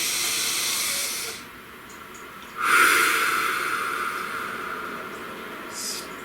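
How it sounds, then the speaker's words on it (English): One slow, deep breath drawn in with an airy hiss rises after a quiet moment, then fades gradually against a low steady background hum. "Please take a nice deep breath."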